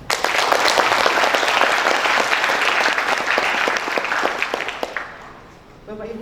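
Loud, dense applause from an audience at a nursing academy capping day ceremony, steady for about five seconds before fading out, with a voice starting to speak at the end.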